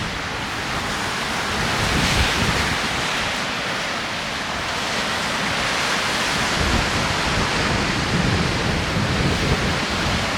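Steady broadband wind rushes through and around an Asta Gear Crescent 1 tent in a storm, a constant loud roar with gusty surges swelling and easing, no voices.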